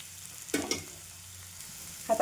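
Ridge gourd pieces sautéing in a pan, with a soft sizzle and two brief stirring bursts over a low steady background hum, heard close and fairly quiet.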